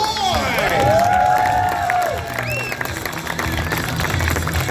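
A loud crowd cheers, whoops and claps at a Toronto freestyle motocross exhibition, shrill screams peaking early and then easing into sustained applause and excited babble.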